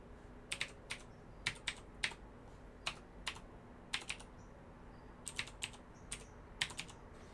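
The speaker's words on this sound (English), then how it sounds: "Clicky MX switches." A mechanical keyboard with clicky MX switches, freshly connected on a budget gaming PC build, gives sharp, crisp key clicks in small uneven bursts over a quiet background.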